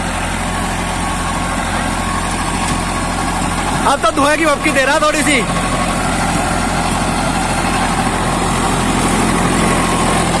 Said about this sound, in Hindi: देखो बढ़िया चल रहा भाई एकदम मस्त